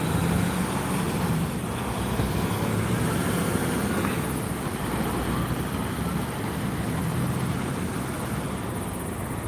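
A Flight For Life medical helicopter sits on Highway 85 near Fort Lupton, its engine and rotors droning as a loud, steady, continuous whine that holds throughout with no talking.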